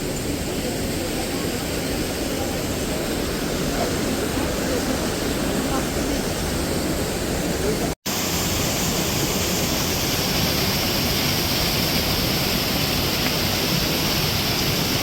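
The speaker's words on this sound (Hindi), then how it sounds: "नदी के पास में बड़े बड़े पत्थर है और हमने नदी क्रॉस कर ली।" A mountain river rushing over large rocks near the Atri Muni cave, a loud, steady broadband roar of water filling the whole scene without pause.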